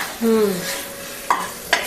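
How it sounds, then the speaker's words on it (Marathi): Brinjal sizzles softly in a pan as it is stirred, with a couple of sharp scraping clinks of a spatula against the metal. "हे असं परतून घ्यायचं."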